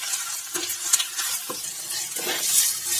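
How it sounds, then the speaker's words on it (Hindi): Garlic ginger paste sizzles and fries in a pan on a dhaba-style stove, with steady crackling and occasional stirring scrapes close by, no voices. "इसमें डालेंगे गार्लिक जिंजर का पेस्ट, इसमें ऐड कर देंगे, और इसको अच्छे से भुनेंगे"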